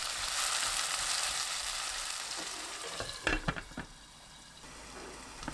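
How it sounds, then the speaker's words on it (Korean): Vegetables including celery sizzle steadily in butter in a hot pan over high heat, then a utensil stirs with a few scraping clatters as the frying hiss fades slightly. "샐러리 넣고 센 불로 볶습니다."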